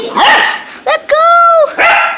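A dog bites and tugs at a shirt, giving a few loud, close yips and whining barks in quick bursts, with excited voices mixed in around the calls.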